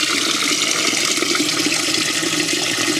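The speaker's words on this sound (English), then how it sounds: "Water's flowing just fine." Water rushes steadily from an outdoor hose spigot, a continuous loud hissing spray that stays even and unbroken throughout, with no voices over it.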